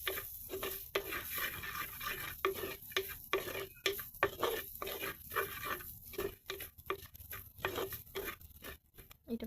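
A spoon stirs ingredients for a Sri Lankan atu kakiri curry in a pan, quiet repeated scraping strokes in an irregular rhythm over a faint sizzle.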